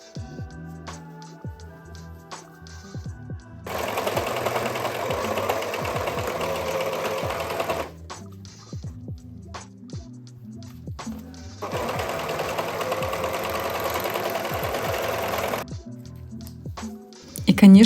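Sewing machine running in two long steady bursts while stitching the side and sleeve seams of a men's sweatshirt, each burst lasting about four seconds, close and fairly loud, with quieter handling sounds between.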